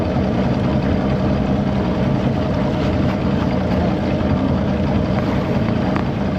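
A Javelin boat's engine idling, a steady low rumble with a broad wash of water and wind noise, close and continuous with no talking.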